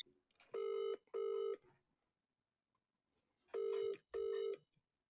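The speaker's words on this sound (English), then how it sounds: "All right, phone's ringing." A telephone ringing: two pairs of electronic trill rings separated by a pause of silence, clear and close.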